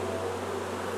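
Honeybees buzz inside a nuc box with an Alberta-bred queen, giving a close, continuous drone throughout a brief moment.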